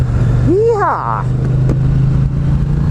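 Loud, steady motorcycle engine drone runs throughout while riding on the road, with a rising and falling whooping voice over it early on; the engine note stays constant rather than clearly revving.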